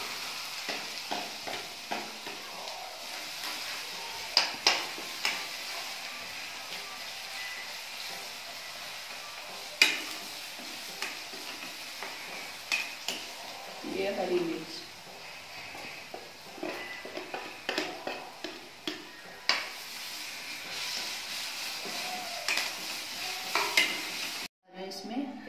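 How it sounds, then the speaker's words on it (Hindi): Ginger-garlic paste with spices sizzles steadily in hot oil in a home kitchen, with frequent stirring scrapes and occasional clinks of utensil against pan throughout. "इसमें ये अदरक और लहसुन का पेस्ट डालूंगी।"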